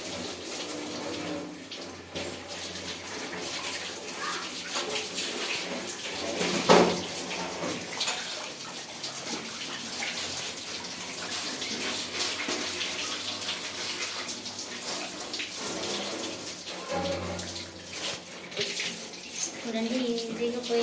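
Tap water runs steadily onto a greasy steel stand being rinsed clean in a sink, a continuous splashing wash lasting the whole stretch with small surges and clatters.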